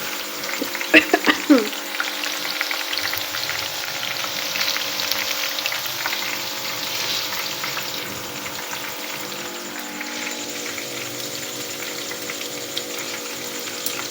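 Okra (bhindi) frying in a pan, with a continuous close sizzle and bubbling that holds steady throughout, a few brief vocal sounds early on.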